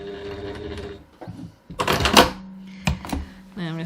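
Sewing machine back-tacking stitches beside a pocket in short rattling bursts, close up, with someone talking before and after the stitching.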